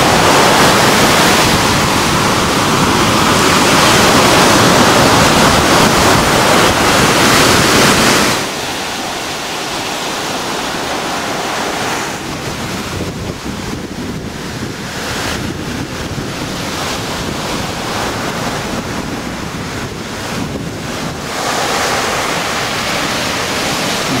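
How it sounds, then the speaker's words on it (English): Ocean waves wash onto a black volcanic sand beach in Indonesia, a loud continuous surf roar with wind buffeting the microphone, easing slightly partway through as the swells keep breaking. "This beach is completely black,"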